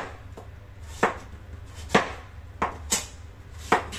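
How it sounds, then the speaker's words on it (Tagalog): Green papaya is cut with a knife on a board: five or six sharp, separate chops at an uneven pace, close and fairly loud over a faint low hum. "Hiwain lang natin."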